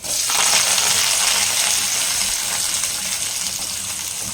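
Curry leaves spluttering in hot oil for a restaurant-style potato masala make a loud, dense crackling burst at the start that eases into a steady, slightly quieter sizzle.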